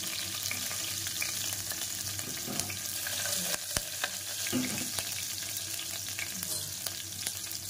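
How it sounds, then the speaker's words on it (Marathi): Green chilies frying in hot oil in a home kitchen, a steady close sizzle with crackling pops throughout and a sharp spatter near the middle, no voices. "मिरच्या तेलामध्ये फ्राय करायचं"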